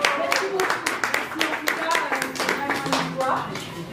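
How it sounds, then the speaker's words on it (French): Uneven clapping from attendees at a Paris press conference for a Congolese singer's concert, sharp claps in loose bursts with people talking over and between them. "veuillez applaudir"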